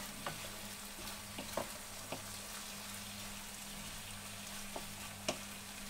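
Egg frying with bitter gourd in a pan, giving a steady close sizzle with scattered small pops and crackles over about six seconds, with no talking.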